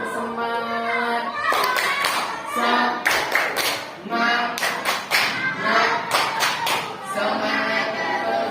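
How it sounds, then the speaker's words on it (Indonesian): A classroom of children performs a rhythmic clapping chant, with bursts of sharp hand claps in patterned groups alternating with chanted and sung voices, close and lively. "mari kita tepuk semangat"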